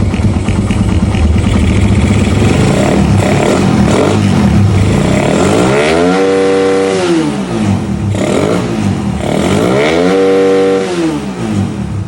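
A Raider 150 motorcycle with a freshly adjusted carburetor and stock CDI and ignition coil idles loudly up close, then revs hard twice, each climb rising smoothly to a high pitch and falling back to idle.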